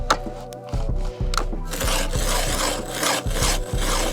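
A hand file sharpens the teeth of a chainsaw chain, producing loud, close rasping strokes in a regular back-and-forth rhythm with short gaps between them.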